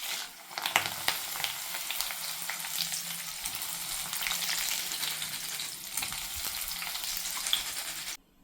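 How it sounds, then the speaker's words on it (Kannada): Ingredients for a crunchy protein-rich ithkibele snack mixture fry in a pan, a continuous crackling sizzle with occasional stirring knocks, close and alone until it stops abruptly. "ಒಂದು ಸ್ವಲ್ಪ ಗೋಲ್ಡನ್ ಕಲರ್ ಆದರೆ ಸಾಕು, ಅಷ್ಟು ಮಾತ್ರನೇ ಫ್ರೈ ಮಾಡ್ಕೊಳ್ಳಿ ಎಲ್ಲವನ್ನು."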